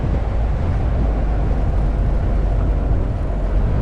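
A steady, low engine rumble from a Willys Hotchkiss M201 jeep drones continuously at an even pace around 30, loud and close, with some broadband noise over it.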